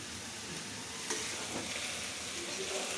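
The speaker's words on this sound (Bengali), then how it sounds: "এখন সবজিটি সব ভাজে নেবে" Mixed vegetables (papaya, potato, carrot, cauliflower and cabbage) fry in oil for a vegetable khichuri, giving a steady close sizzle with occasional stirring scrapes and no voices.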